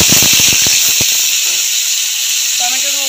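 Tomato paste tipped into hot oil with fried tempering spices for a Bengali bhangor fish curry, starting with a brief clatter, then settling into a loud, steady sizzling hiss, with a voice speaking faintly near the end.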